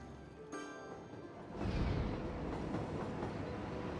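A train running in the city-building game Cities: Skylines, a steady rumbling rail sound that swells louder partway through and continues as a close, even clatter with no talk over it.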